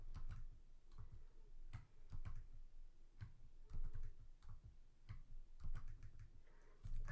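Keys clack in a quick, irregular rhythm on a computer keyboard while someone edits a Linux script, the taps soft and close against a faint room hiss.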